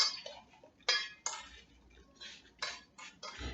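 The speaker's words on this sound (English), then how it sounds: "So all I'm going to do is mix this through the apple." Metal spoon clinking and scraping against a bowl while apple slices are tossed with cinnamon, a few sharp clinks separated by quieter scraping, close and alone.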